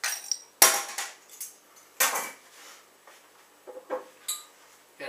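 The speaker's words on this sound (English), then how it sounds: "So, let's get it open." A freezing-cold Adnams Explorer beer being opened up close: a few sharp metallic clicks and clinks separated by short pauses, with no talking.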